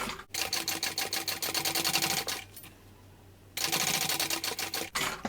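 Sewing machine stitching a 3/8 inch seam on a bucket bag, rapid rhythmic needle clatter close up, pausing for about a second midway before resuming at the same fast pace.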